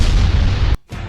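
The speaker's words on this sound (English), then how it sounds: "Kakashi saw the situation and he used the Kamui to send the explosion into another dimension" An animated clay explosion from Naruto Shippuden: a loud, roaring low boom that holds for most of a second, cuts off abruptly to near silence, then rumbles back briefly.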